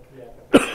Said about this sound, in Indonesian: Batuknya tidak usah diikuti.